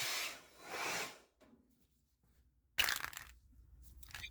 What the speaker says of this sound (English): we're going to run over the inside with Scotch-Brite. And this is just red Scotch-Brite